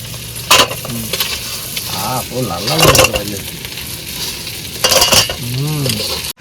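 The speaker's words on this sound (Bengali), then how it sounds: "তেল গরম হয়েছে এবার পেঁয়াজ দিয়ে দেবো" Hot oil sizzles and crackles steadily in a pan outdoors in the Sundarbans before onions go in, with a utensil clattering and scraping now and then while people talk over it.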